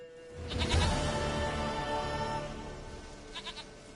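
A goat in The Witcher 3 gives a long, loud, wavering bleat close by, then a few short bleats follow faintly near the end.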